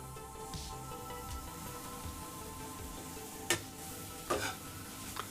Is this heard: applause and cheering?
no